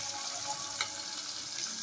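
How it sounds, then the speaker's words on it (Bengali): Small morola fish frying in a pan, a soft, steady low-level sizzle with one brief crackle, faint and continuous with no talk. "মাছগুলো আমাদের ভাজা হয়ে গেছে, এরকমই ভাজবো।"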